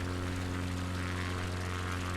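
A propeller plane's engine drones in Microsoft Flight Simulator on a Patagonia bush flight, loud and steady with a strong, even hum throughout and no break.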